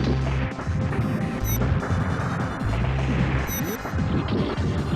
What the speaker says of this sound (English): she shoots a gun into the air